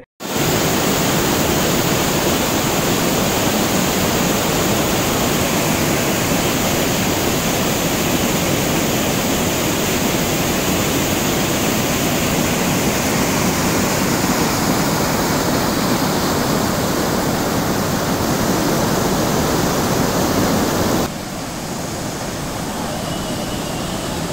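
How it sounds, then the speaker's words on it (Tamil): Hogenakkal Falls roars in a dense, unbroken wash of water noise, loud and close, holding steady for the whole span before dipping slightly near the end. "அந்த அருவியோட சத்தத்தை வந்து கேளுங்களேன் எவ்வளோ சூப்பராக இருக்குது"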